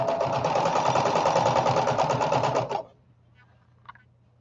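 A sewing machine runs at full speed with a steady, dense motor whir and rapid needle chatter, then stops abruptly, leaving a low hum and a faint click.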